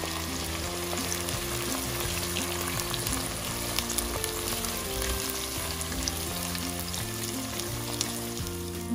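Onions frying in oil for chicken biryani give a steady, dense sizzle with crackling spatters throughout, under continuous background music.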